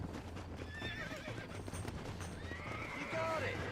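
Horse neighs and clip-clopping hooves in the Red Dead Redemption video game, with a neigh rising near the end, while people talk over the game sounds.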